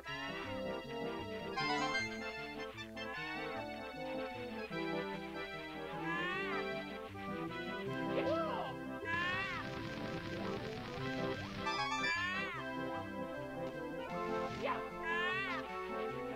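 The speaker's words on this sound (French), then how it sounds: "Oui, miaou, miaou. On dirait qu'elle miaou." Repeated cartoonish cat meows from the Super Mario 64 video game over looping background game music, several distinct rising and falling mewing calls at moderate volume.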